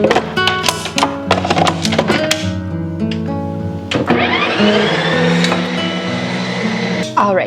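An ice cream maker runs its respin cycle on a frozen snack with milk, its motor whirring and churning with clunks and taps, rising into a sustained grinding whine, while a person talks over it.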